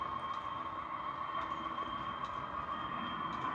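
A train in a railway simulation game rumbles steadily with a constant mechanical hum and faint high whine, no voices, a continuous rolling drone throughout.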